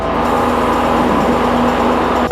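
A light aircraft engine roars at full throttle during a touch-and-go takeoff on runway 19 in Vermont, a loud, steady droning hum with a constant tone that holds without letup.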